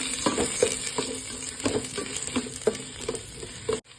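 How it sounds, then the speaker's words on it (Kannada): Onion and garlic fry in oil in a pan, giving a busy sizzle broken by quick, rhythmic spatula taps and stirring scrapes, then stopping abruptly near the end. "ಈರುಳ್ಳಿ ಬೆಳ್ಳುಳ್ಳಿ ಹಾಕ್ಕೊಳ್ಳೋಣ. ಫ್ರೈ ಮಾಡ್ಕೊಳ್ಳಿ."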